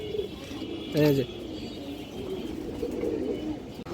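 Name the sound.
pigeons, young home-bred pigeons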